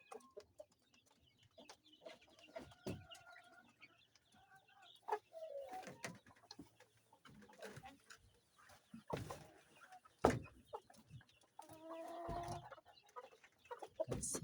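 Kienyeji chickens in a farm breeding area, a cock kept with a single hen, give off scattered clucks and short calls, some close and some further off, in bursts against quiet background noise with no talking.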